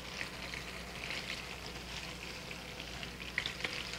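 Thin chicken pieces frying in a pan give a steady, close sizzle with soft crackles and a few sharper pops near the end, with no voices.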